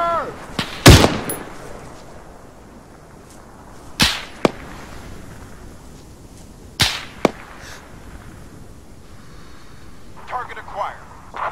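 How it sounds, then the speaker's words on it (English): Enemy gunfire cracks out as a few sharp, separate shots spaced several seconds apart, each a loud brief snap over a quiet, hissy background. "Enemy fire!"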